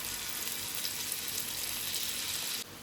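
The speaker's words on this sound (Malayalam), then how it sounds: "ഫ്ലെയിം കുറച്ച് വെച്ച് നമുക്കിനി ചിക്കൻ ഫ്രൈ ചെയ്തെടുക്കാം" Chicken pieces frying in melted butter in a pan over low flame, giving a dense, even sizzle that runs steadily and then drops off abruptly near the end.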